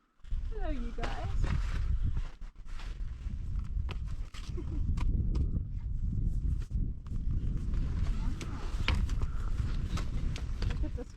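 Uneven clopping of hooves on the ground, several horses moving nearby, with low rumbling movement and people talking over it.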